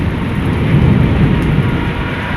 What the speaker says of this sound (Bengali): বৃষ্টির সাথে প্রচণ্ড বজ্রপাত হচ্ছে